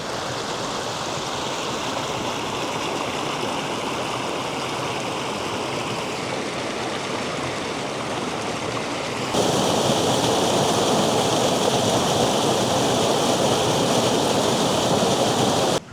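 Waterfall on the Wellington River pouring as a dense, continuous roar of rushing water, close and loud throughout, growing noticeably stronger and brighter partway through.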